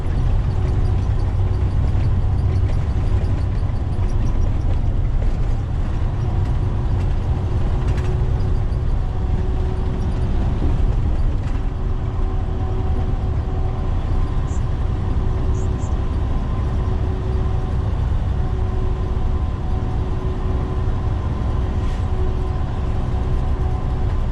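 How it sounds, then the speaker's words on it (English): A truck passes on a freeway, heard from inside another truck's cab as a loud, continuous low road rumble and drone with no distinct peak, steady throughout. "You hear some truck going by"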